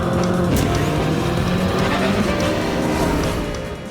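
Engine sound for a video-game flying vehicle modeled on 1950s Formula 1 cars, blending steady-RPM 1960s V8 exhaust loops with synthetic layers; a loud, continuous, close roar holding steady, easing slightly at the end.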